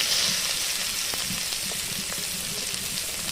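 Onion fries in hot oil, a steady close sizzle with a soft hiss and faint scattered crackles throughout, no voices.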